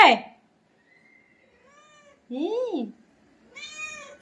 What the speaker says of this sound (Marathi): तो कॅटफूड पाहिजे तुला कॅट कॅटफूड पाहिजे